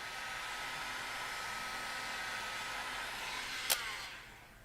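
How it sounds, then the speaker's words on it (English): A hair dryer blowing hot air steadily at close range onto an iPhone 7 display to loosen it, a constant airy roar with a faint whine, easing off near the end. "it is best to use a hot air gun or an ordinary hairdryer"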